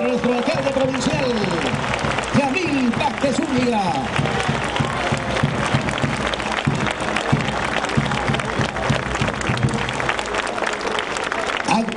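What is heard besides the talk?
audience applause for the new provincial mayor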